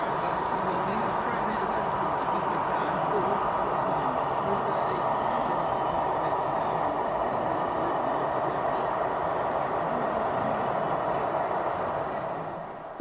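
A Castle Set HST model train runs on an exhibition layout, giving a continuous rumbling hum mixed into busy hall ambience and chatter, steady for several seconds before easing off slightly at the end.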